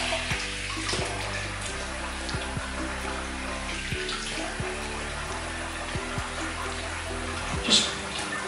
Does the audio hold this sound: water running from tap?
yes